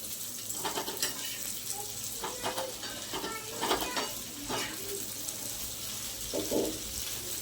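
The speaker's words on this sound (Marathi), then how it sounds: "हे आपलं मगाशी कारलं, याला आता परतून घेते।" Bitter gourd sautéing in a pan on the stove, a steady low sizzle with intermittent scraping stirs and a few brief clinks, heard alone without talk.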